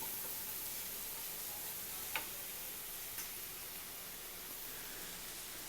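Quiet, steady sizzle of a cheese pasta mixture frying in a pan, with two brief clicks of a spoon stirring against the pan near the middle.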